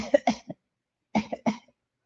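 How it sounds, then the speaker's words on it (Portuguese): Two pairs of short, close coughs separated by a pause of silence, during an abdominal exercise class. "vocês vão tossir"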